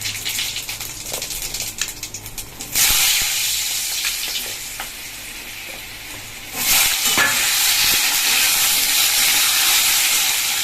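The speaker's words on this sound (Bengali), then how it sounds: "কড়াইয়ে তেল দিয়ে দিয়েছি দিয়ে দিলাম শুকনো লঙ্কা তেজপাতা আর হচ্ছে গোটা জিরা" Dried red chillies, bay leaves and whole cumin seeds sizzle in hot oil in a wok, a steady loud crackling hiss that surges sharply twice as more goes in, with no talking.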